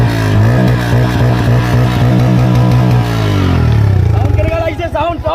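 A 2023 Royal Enfield Himalayan motorcycle idles with a loud, close, steady single-cylinder thump. The engine note shifts partway through as its pitch drops away, and someone talks over the end.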